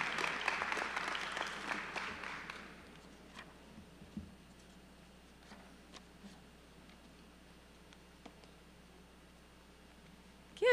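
A convocation audience applauds at a fall matriculation ceremony, a dense burst of clapping that thins out quickly after a couple of seconds, leaving a few scattered claps and quiet room noise.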